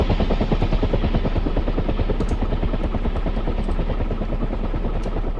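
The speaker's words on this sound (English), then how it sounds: "let's take a chopper out, shall we?" Helicopter in the DCS World flight game, a loud, continuous rotor thump and engine drone, close and steady, with no talk over it.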